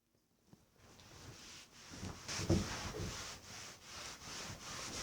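Old shellac varnish is scrubbed off wooden furniture with soft, close rubbing and scraping strokes that come in uneven pulses, quiet and without talk.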